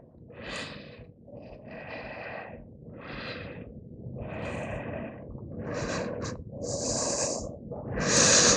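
Someone breathing through a yoga flow: a series of loud, close, rhythmic nasal inhales and exhales, about a second each, with no talking.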